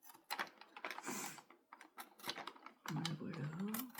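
Scissors snipping during a canvas painting craft project, a series of small, close clicks and cuts in an irregular rhythm, with a voice talking quietly alongside.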